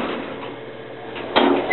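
A 1960s Dover elevator door, with a fault that makes it glitch, slides in a steady loud rumbling rush that ends in a sharper thump near the end.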